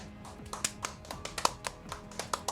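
Hands clap in an uneven, fairly quick rhythm, a dozen or so sharp claps at moderate volume with no talking.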